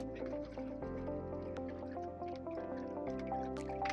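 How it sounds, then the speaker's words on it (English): Carrot mango juice dripping and trickling through a strainer, with faint liquid drips under soft background music throughout. "Pouring in, straining, getting all the excess residues from out of it."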